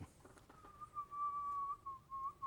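A person whistles a single sustained, wavering tone in amazement, fairly clear and close, after a few faint knocks at the start.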